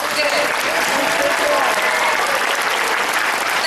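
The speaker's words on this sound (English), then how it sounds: "please, a big round of applause again" Steady applause from a theatre audience after a Chinese ribbon dance at a cultural gala, continuous clapping throughout at moderate loudness.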